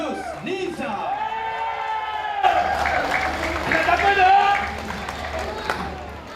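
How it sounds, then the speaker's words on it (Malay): Crowd applause and cheering swell beneath a loudspeaker announcer at a Petronas MAM Malaysian Cub Prix podium ceremony, with clapping building and peaking midway, then easing as the presentation continues. "Kita berikan tepukan kepada pemenang-pemenang"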